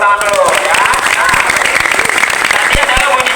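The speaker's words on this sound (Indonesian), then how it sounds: "tepuk tangan dulu dong, tepuk tangan dulu ya" A room full of people at the Monas national monument museum claps steadily and loudly for several seconds, a dense continuous applause with a few louder claps standing out near the end.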